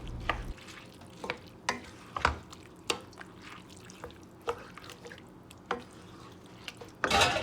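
Rice being stirred into a simmering tomato stew for jollof rice, with wet scraping and sloshing strokes coming in a steady rhythm up close, and a louder scrape right at the end.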